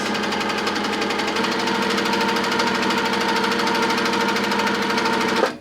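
A sewing machine stitches at a fast, even pace with its upper thread tension set very tight, giving a loud, continuous mechanical chatter that runs without a break and stops abruptly at the end.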